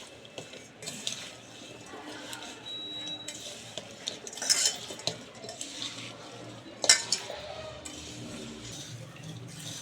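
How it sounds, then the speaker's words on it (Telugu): Mango pickle pieces tossed by hand or spoon with oil, chili powder and salt in a steel vessel, producing close, continuous wet stirring with occasional metallic clinks and scrapes and no talk. "ఇలా కారం ఉప్పు ప్రతి ముక్కకి తగిలేలాగా కలుపుకోవాలి."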